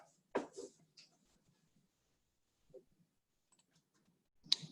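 A computer mouse clicks a few times in a quiet room, with one sharp close click at the start, a fainter one midway and another sharp click near the end, separated by near silence.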